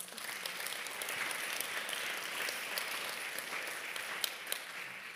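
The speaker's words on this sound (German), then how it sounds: "Von daher einen herzlichen Applaus für Amelie Nicke." Steady applause from an audience at a German study presentation, a dense patter of many hands clapping at an even level throughout.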